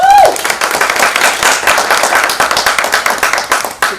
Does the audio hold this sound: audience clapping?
yes